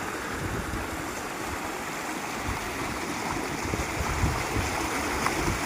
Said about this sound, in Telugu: వాటర్ అయితే కొద్దిగా గట్టినే ఫ్లో అవుతుంది